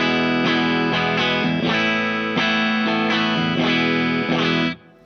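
Single-coil pickup on a VanderCaster parts-built electric guitar giving a thinner, brighter tone, strummed and picked in a quick phrase of chords and notes, close and loud with no talk, ending abruptly.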